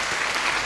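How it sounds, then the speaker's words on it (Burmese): Wedding guests clapping together in a dense, steady burst of applause, loud and continuous for the whole brief moment. "လက်ခုပ်တီးပြအောင်နော်"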